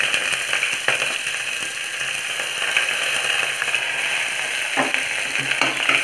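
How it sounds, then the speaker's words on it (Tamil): Onions and curry leaves frying in a pan for a Tamil potato kurma, a steady loud sizzle with occasional crackles and scraping stirs throughout, no voices. "நல்லா ஃப்ரை பண்ணுறோம்."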